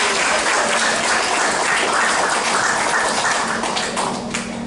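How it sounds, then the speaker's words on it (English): Loud, sustained audience applause at the opening ceremony of a Celebrate Women in Uniform event, a thick wall of clapping from a full room that eases a little near the end. "I'm getting applause, I think, from our National Anthem singer."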